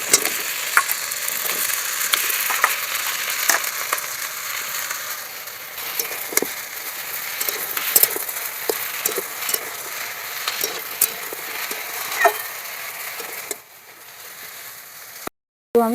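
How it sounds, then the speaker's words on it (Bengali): Small pieces of potato and pumpkin fry together in a pan, a continuous close sizzle with frequent stirring scrapes and clicks, quieting briefly before a sudden cut. "এবার এগুলো দিয়ে আমি ভালো করে ভেজে নেবো একসাথে।"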